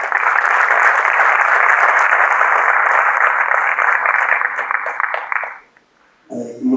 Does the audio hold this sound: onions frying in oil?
no